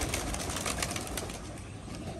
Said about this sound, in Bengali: দেখুন পায়রাগুলো কিন্তু সব এখন ঘোরাঘুরি করছে